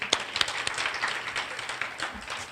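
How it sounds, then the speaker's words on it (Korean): Lecture-hall audience at a Korean university event clapping for the student hosts, a modest, uneven round of applause with a few sharp, distinct claps standing out early, then thinning out. "박수 한번 쳐주시죠."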